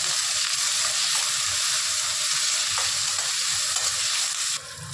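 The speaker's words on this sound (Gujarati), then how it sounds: "લીલા મરચાં, લીમડો, ડુંગળી નાખવાની, ગાજર, કેપ્સિકમ ને ટામેટા. એને 5-7 મિનિટ સુધી સાંતળવા દેવાના." Green chillies, curry leaves, onion, carrot, capsicum and tomato sauté for upma in a hot pan, giving a loud, steady sizzle with scraping stirs throughout and a brief drop in intensity near the end.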